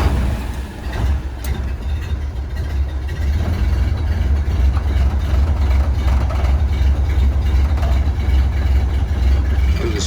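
A 1931 Ford Model A pickup engine runs close by in a steady, continuous low rumble at idle, with no voices over it.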